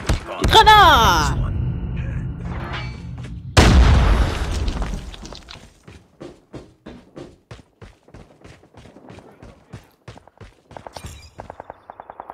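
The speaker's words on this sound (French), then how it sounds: "Du grenade!" A grenade goes off in the Call of Duty Mobile video game, first a loud boom at the start, then a second heavy blast a few seconds later. A string of sharp clicks and taps follows.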